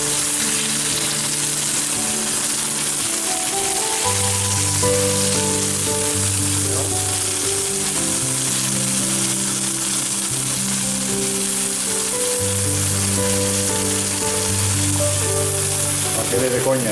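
Pig's trotters and chickpeas are stirred as they fry in a pan, a constant sizzle running beneath loud sustained music that dominates throughout.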